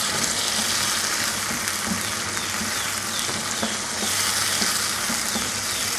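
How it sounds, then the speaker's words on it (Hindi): Achar gosht masala frying in a pan, a steady close sizzle with faint crackles and occasional stirring scrapes running evenly throughout. "ये देखिए हमारा मसाला भुन रहा है।"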